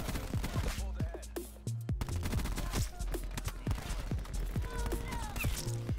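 Rapid bursts of automatic light machine gun fire in a video game crackle in quick succession, with a brief pause before the shooting resumes, loud and close.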